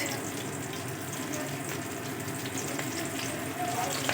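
Ridge gourd fries in a little oil for a Bengali sukta, giving a steady, dense sizzle with faint stirring scrapes, close and continuous without talk.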